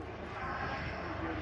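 Avro Vulcan bomber flying at an air show, a loud, steady broadband jet roar filling the air continuously without letup.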